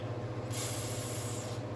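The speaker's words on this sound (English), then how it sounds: "take a Scotch-Brite pad, the little green one, and some carb clean. And I'm just going to spray this thing" Aerosol carb cleaner sprays onto an engine part from a Jeep 4.0 head gasket job in one short hissing burst, heard close over a low steady hum.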